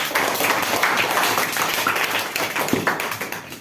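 Steady applause from a school audience welcoming a participant at an advertisement presentation event, dense continuous clapping lasting several seconds, fairly close and loud.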